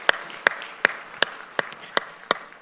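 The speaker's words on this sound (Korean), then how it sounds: "다시 한번 큰 우리 격려의 박수, 축복의 박수 하십시다." Sparse, slow hand claps from a church congregation applauding in encouragement and blessing, about eight distinct claps spaced roughly evenly apart, fairly close and moderately loud, with no talking.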